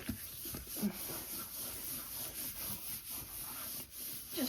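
Fingers press and rub glued paper down onto a mixed-media masterboard, making a soft, continuous scuffing and rubbing with faint strokes over a steady hiss, close and quiet.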